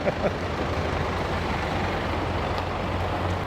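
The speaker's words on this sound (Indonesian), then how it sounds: "Belok kiri dulu truknya." Truck turning left while maneuvering to park, giving a steady low engine rumble close by that holds at an even level throughout, with faint street noise behind it.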